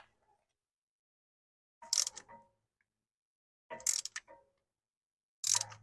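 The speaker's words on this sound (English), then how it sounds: "Right now it's rotating on the threaded shaft inside of the caliper." Brake caliper piston on a Chrysler Town and Country being wound back along its threaded shaft, giving three separate bursts of clicking, ratcheting mechanical turning spaced about two seconds apart, close up with silence between.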